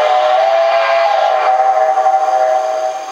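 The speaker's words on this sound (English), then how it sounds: "it's a quillable whistle, and you work it with the thumb wheel" A sustained, loud steam whistle comes from an MTH model steam locomotive, a Reading & Northern Pacific with a quillable whistle worked by a thumb wheel, blowing steadily for about three seconds with a slight wavering near the end.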